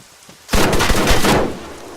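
A soldier in ArmA 3 fires a rapid, loud burst of gunshots, close and crackling, lasting about a second after a quiet start before fading back to a low ambient hush.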